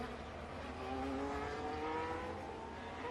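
A Formula 1 car driven by Carlos Sainz runs a practice lap at the Bahrain Grand Prix 2022, its high engine whine rising steadily through the gears at a distance, with no pauses.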